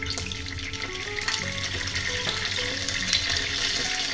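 Fish cooking liquid with potatoes and garlic sauce is stirred in a pan over low heat, giving a steady close sizzle with soft scraping stirs and no voices.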